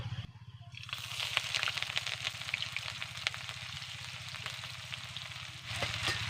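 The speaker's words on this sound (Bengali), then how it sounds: "এবার ভালো করে নেড়ে নেব পেঁয়াজকে আমি নরম করে ভেজে নেব" Two medium chopped onions fry in hot oil with panch phoron, a steady close sizzle with scraping stirs and a faint crackle, no voices.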